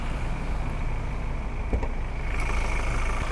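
A 2018 Ford Everest 2.0 Titanium with its 2,000 cc diesel engine idling in the engine bay, giving a steady, even mid-pitched rumble with no stumbles, close and constant throughout.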